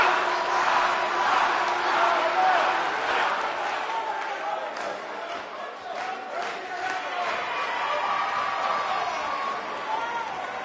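A wrestling arena crowd roars before a tag team match, a sustained, dense wall of cheering and shouting that swells early and holds steady, with voices mixed into the noise.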